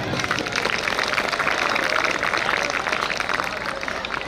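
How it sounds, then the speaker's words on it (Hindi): Applause from an audience at a Hindi-language program, a dense, steady wash of clapping lasting a few seconds. "परिसर में तालियों की गड़गड़ाहट चाहिए।"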